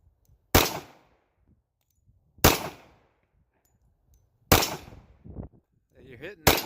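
Tisas 1911 pistol fired at a steel target outdoors, four sharp loud shots spaced about two seconds apart, each with a short decaying ring, with faint voices in between.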